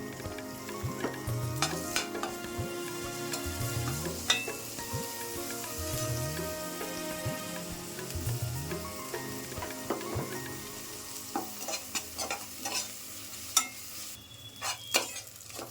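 A handful of coriander leaves sizzles in a pan while being stirred, with rhythmic scraping strokes over a continuous crackling fry, then sparser pops and clinks as the stirring slows.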